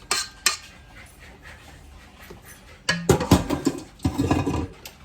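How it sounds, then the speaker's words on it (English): A dog barks in short, excited bursts, close by and fairly loud, over the clatter of pans and cookware. "Can you hear my dog going nuts?"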